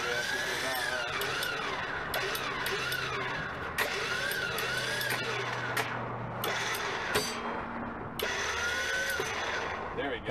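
A car transport trailer's winch whirs and grinds steadily as it spins back during loading of cars, with a continuous mechanical drone, some clanks and whining tones, and people talking over it.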